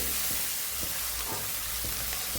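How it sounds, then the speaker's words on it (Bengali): Ingredient frying in oil in a Bengali kitchen, cooked until reddish: a steady broad sizzle with faint periodic stirring scrapes, close and continuous, no voices. "এটাকে আমি একটুখানি লাল লাল করে ভেজে নিই"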